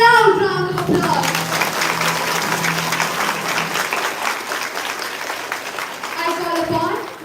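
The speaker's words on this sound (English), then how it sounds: "Please give the marching contingent a loud round of applause." Loud, sustained applause from a large school crowd at an outdoor event honoring a marching contingent, continuous clapping under a voice on a public address at the start and end.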